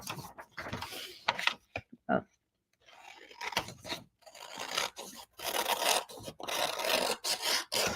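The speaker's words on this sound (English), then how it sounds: "You can hear how heavy this paper is" Heavy craft paper is handled and shuffled in bursts of dry rasping and rubbing, close and fairly quiet, with brief pauses between the handling sounds.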